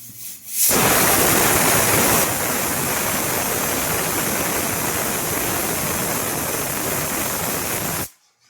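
A pressure cooker with its whistle lifted, letting out a loud, steady rush of hissing steam that bursts on sharply, holds for about seven seconds, then stops abruptly.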